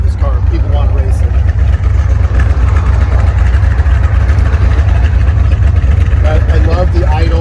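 A 1971 Corvette Stingray convertible idles loud and steady close by, with a deep, constant low rumble and a slight burble. A voice talks faintly underneath.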